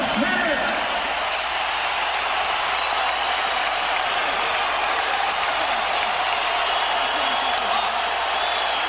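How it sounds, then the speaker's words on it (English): A boxing crowd cheers and applauds on its feet as a round ends, a dense, loud, steady roar of voices and clapping filling the whole stretch with no break. "And the crowd is on its feet again."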